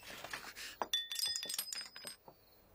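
Glasses clink together in a toast at a family gathering, a cluster of bright, close chiming taps with a few sharper rings before trailing off.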